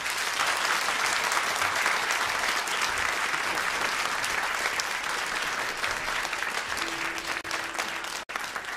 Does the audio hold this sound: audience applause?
yes